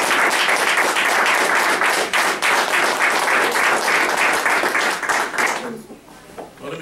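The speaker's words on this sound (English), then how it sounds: "Can we give him a real big round of applause?" Loud, sustained applause from an audience at a graduation ceremony fills most of the clip, then tapers off quickly to a few scattered claps near the end.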